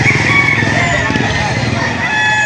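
Roosters crow at the Lipa City livestock auction market, a loud, close crow with other fowl clucking amid busy crowd murmur.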